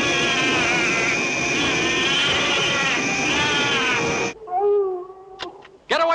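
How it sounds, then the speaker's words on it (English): The young monster Minya from the film Son of Godzilla gives a loud, cat-like wailing cry over film soundtrack noise, then the noise cuts off and several shorter, thinner cries follow with brief sharp sounds. "apparently Minya's gone from a donkey to sounding like a cat in heat"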